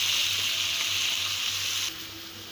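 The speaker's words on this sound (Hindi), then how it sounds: "गोश्त डालने के बाद इसमें हम अदरक लहसुन का पेस्ट डाल देंगे और इसको अच्छी तरह भून लेंगे" Beef with ginger garlic paste sizzles steadily in a hot pan over high flame, a loud, continuous frying hiss that drops slightly in intensity toward the end, with no voices.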